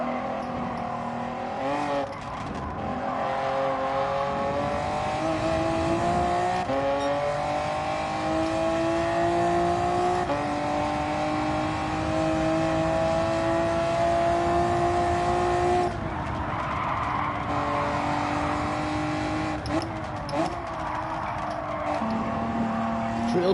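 A race car in Gran Turismo 7 on a lap, its engine droning and rising in pitch through gears with repeated shifts and brief tire squeals. The sound is loud and continuous, and a voice occasionally speaks over it.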